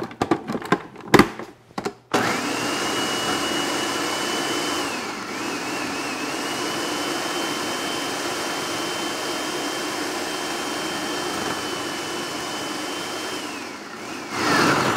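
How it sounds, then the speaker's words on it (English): Food processor running on spinach dip with olive oil, a loud steady motor whir that holds for over ten seconds after a few short starts, close up with no talk. "we're going to pop this on the food processor. So give me a minute for the sound here."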